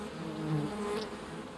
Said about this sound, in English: The humble honeybee is the most widespread bee in the world today.